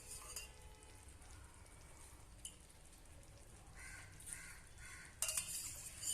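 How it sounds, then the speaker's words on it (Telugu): Soaked brown rice frying in a pot for pulao, a faint low sizzle with soft stirring scrapes and a few louder clatters near the end, crows cawing faintly in the background. "బ్రౌన్ రైస్ కూడా యాడ్ చేసి ఫ్రై చేసుకోవాలి"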